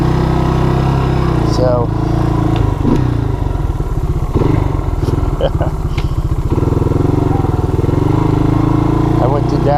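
A Yamaha DX225 ATC three-wheeler engine runs with the choke on, a loud, steady low rumble that persists throughout. There is rattling and clatter on top, and someone speaks briefly over it.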